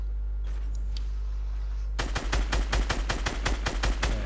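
Rapid automatic gunfire in a squad shooter game bursts in after a quiet stretch, a fast even string of loud close shots that fills the rest of the moment.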